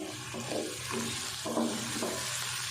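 Three medium potatoes with coarsely crushed green chillies fry in a pot for Hyderabadi aloo tahari, a steady sizzle broken by rhythmic scraping swells as they are stirred.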